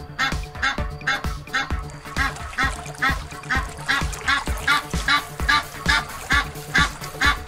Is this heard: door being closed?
no